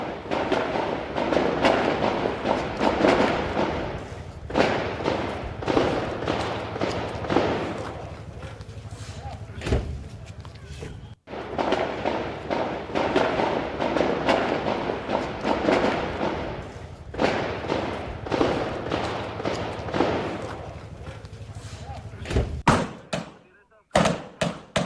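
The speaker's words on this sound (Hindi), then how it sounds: "गोलियों की तड़तड़ाहट आप सुन सकते हैं" Rapid bursts of gunfire rattle repeatedly in the distance during a security forces encounter at a house in Jammu and Kashmir, sharp cracks and thuds recurring amid steady background noise and occasional talk.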